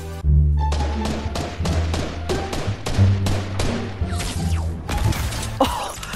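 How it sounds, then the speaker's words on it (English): Gunshots in Fortnite, a rapid series of sharp, loud cracks and impacts spread across the clip at irregular intervals, layered over game music and background rumble. "There's too many gunshots."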